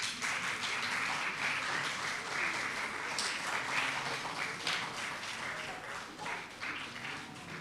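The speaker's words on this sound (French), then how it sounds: "Sous vos applaudissements, s'il vous plaît." Audience applause at a televised youth contest show on a Congolese TV channel, a steady, even wash of many hands clapping at moderate level from start to finish.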